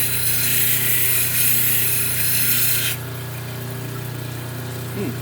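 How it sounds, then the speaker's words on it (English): A power tool grinds a gray shell piece, giving a continuous harsh abrasive whine that is loud at first and drops to a lower steady hum partway through. "Try grinding away on the heel a little bit up here."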